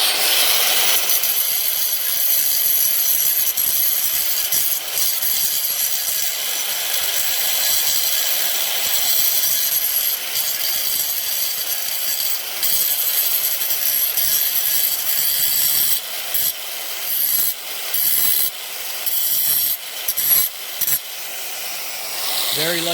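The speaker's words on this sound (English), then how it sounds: "you can use these like this to sand down the edges if they're too big" A serrated tool sands down the edges of Airstone faux stone around a fireplace with a continuous harsh rasping scrape. The strokes become choppier and more broken toward the end.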